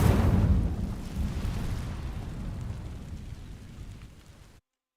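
Incendio fire spell bursting into flame across dry vines in Hogwarts Legacy, a loud whooshing roar that erupts at once, then settles into a sustained crackling rumble that gradually fades before cutting off.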